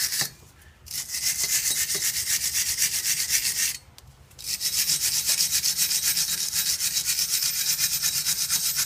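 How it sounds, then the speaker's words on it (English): Wire brush scrubbing the hub face of a 1996 Honda CRV's front hub: steady, close rasping strokes for nearly nine seconds, broken by two brief pauses. "with the same wire brush is I like to clean this face of the hub"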